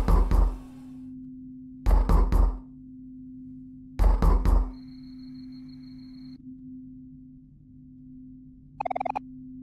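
Knocking on a door in the video game OMORI: three quick sets of three or four sharp raps spaced about two seconds apart, followed later by a brief electronic chime over a steady low hum.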